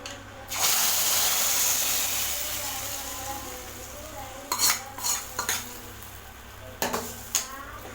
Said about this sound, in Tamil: வெந்தயம் பொரிஞ்சதுமே இதில் கொஞ்சமாக கருவேப்பிலை எண்ணெயில் வதங்கிடுச்சு